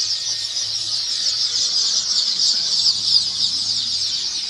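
A dense, steady chorus from many chickens fills a poultry farm, close and continuous, with a low hum underneath and no voices.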